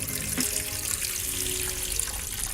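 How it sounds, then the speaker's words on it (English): Water streams steadily and continuously into a rice cooker close by, with a bright splashing hiss and no talking. "We put water in the rice cooker."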